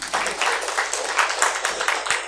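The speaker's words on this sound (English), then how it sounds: "So again, a huge round of applause for yourselves." Attendees at the Meet Magento India 2020 conference give a short round of applause, scattered clapping that comes in quick uneven bursts, moderately loud and close, with no speech over it.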